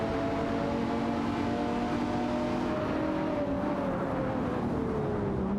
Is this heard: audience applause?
no